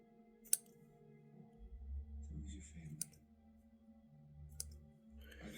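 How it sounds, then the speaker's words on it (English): A few sharp, faint snips of scissors cutting stiff straight-dub dubbing material while tying a chironomid fly pattern, spaced seconds apart over quiet room tone. "I'm going to snip this just a little bit more."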